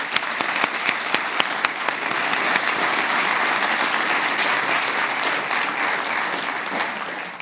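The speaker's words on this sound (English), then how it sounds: "let's take a moment to give them a round of applause" An audience at the EV Summit 2023 claps in a steady, dense round of applause with sharp individual claps standing out at the start, sustained throughout.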